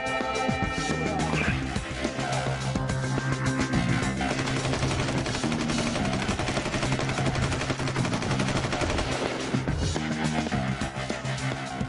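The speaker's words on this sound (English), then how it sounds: "A simple shake, and boom, I was right down range firing rounds." An HK416 rifle that was buried in sand fires continuous rapid rounds, a loud, dense, unbroken stream of close gunshots lasting throughout.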